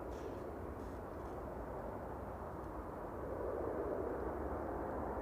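Ryanair Boeing 737-800 jet arriving at Manchester Airport, a steady broadband engine roar that swells slightly louder toward the end, heard at some distance with no talk.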